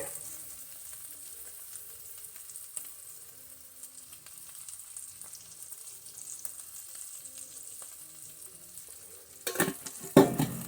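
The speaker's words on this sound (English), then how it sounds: "Kind of fry that herb just a little bit" Garlic, onion, turmeric and cardamom frying in grease give a steady, soft sizzle throughout, ending with a few louder clatters of stirring in the pan.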